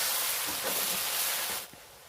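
Crushed garlic dropped into hot oil in a home kitchen, a loud, dense frying hiss that holds steady and then eases off abruptly into quieter sizzling.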